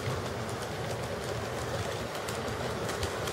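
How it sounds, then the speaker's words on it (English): A Metra commuter train runs inbound on the outside track, producing a continuous broadband rumble and rush that stays loud and even throughout. "So I got my Metra on the outside track running inbound."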